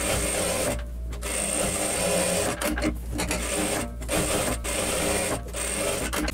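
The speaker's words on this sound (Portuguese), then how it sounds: "eu vou encaixar aqui e vou costurar essa, essa base aqui, tanto na reta quanto no overlock" A sewing machine runs steadily while stitching a fabric pocket with straight and overlock stitches, making a loud continuous mechanical whir broken by short pauses and restarts.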